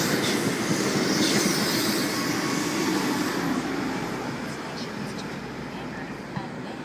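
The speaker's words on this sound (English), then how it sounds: "And we have a K set arriving into platform number 4, Schofield service." A Sydney K set suburban electric train pulls into a station platform with a loud, steady rumble of wheels and motors that slowly eases as it slows, and someone talks over it.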